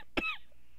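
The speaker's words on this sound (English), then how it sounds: "I'm having a coughing fit." A single sharp, close cough from a person mid-coughing fit, one brief burst followed by quiet room tone.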